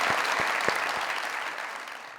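Studio audience at a Punjabi-Hindi comedy talk show breaks into loud, dense applause that starts at full strength, with a few sharp claps standing out early, then slowly thins over about two seconds.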